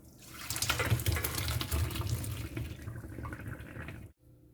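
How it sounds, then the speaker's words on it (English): Cooked potatoes and saltfish drained through a colander, with a loud continuous rush of pouring water and splashing into a sink that stops abruptly near the end. "And now I'm going to drain my potatoes."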